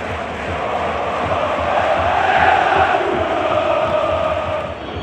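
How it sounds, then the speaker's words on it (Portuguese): Inter Milan supporters singing in a stadium during a Champions League match against Manchester City, a broad, sustained wash of crowd chanting that swells gently and stays constant, heard from within the stands. "Torcida da Inter cantando, hein?"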